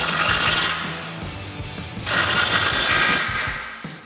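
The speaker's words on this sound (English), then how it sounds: "Now we're going to tighten this back down, again using our 18mm socket and swivel adapter with an extension." A ratchet with an 18mm socket, swivel adapter and extension tightens a nut on an F-150 Fox Factory coil-over reservoir shock, two loud bursts of rapid metallic clicking, close and alone.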